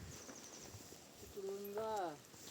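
Hooves of a pair of village bullocks clip-clop steadily on a road in rural Maharashtra, with a brief tonal honk-like sound midway and people talking nearby throughout.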